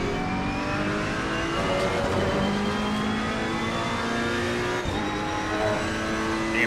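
Race car engines roar in Assetto Corsa Competizione at Donington Park, with a BMW and a Ferrari among the field, several high-revving engines overlapping as pitches climb and shift through gears, loud and continuous.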